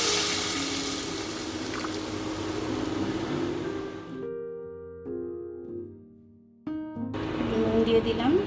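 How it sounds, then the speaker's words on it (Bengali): Tamarind-soaked sour water pours and splashes steadily into a pot of chicken momo soup for about four seconds, followed by a quieter stretch of faint tones before the liquid noise returns. "এই তেঁতুল জলটা আমি দিয়ে দেবো, তাহলে মোমোর স্যুপটা আমার তৈরি হয়ে যাবে"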